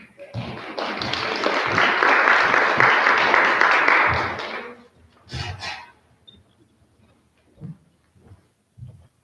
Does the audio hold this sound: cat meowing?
no